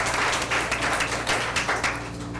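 Sustained audience applause at a county board of education meeting, dense and fairly close, swelling in uneven waves with a steady low hum beneath.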